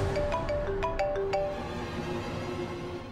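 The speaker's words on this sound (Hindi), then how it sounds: "बार-बार घर से फोन आ रहा है।" A phone ringtone for an incoming call plays a short run of bright electronic melodic notes in the first second and a half, then fades out, leaving only low background noise.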